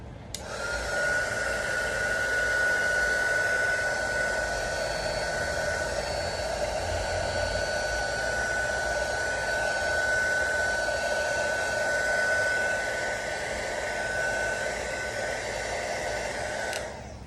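A heat gun blowing on pink and white epoxy resin, a steady whooshing hum with a constant whine, unbroken and fairly close for the whole stretch.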